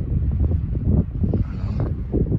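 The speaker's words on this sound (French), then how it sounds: "Vous voyez les rafales, ça ça couvert de neige." Wind gusts blow steadily outdoors during snowfall, a continuous loud buffeting roar that swells and eases in waves across the whole stretch, with no voices.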